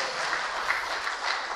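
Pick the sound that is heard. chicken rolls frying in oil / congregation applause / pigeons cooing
congregation applause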